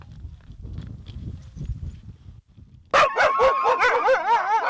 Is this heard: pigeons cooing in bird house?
no